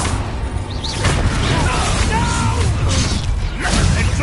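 The Confringo fire spell in Hogwarts Legacy bursts in loud, muffled booms and crashes amid whooshing battle noise, layered under a voice shouting.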